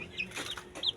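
A couple of quick, soft chicken clucks, brief and fairly faint, close by.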